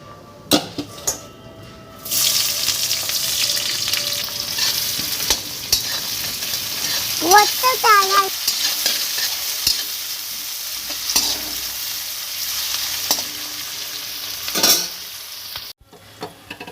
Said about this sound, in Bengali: পেঁয়াজগুলো লাল লাল করে ভাজা হয়ে গেলে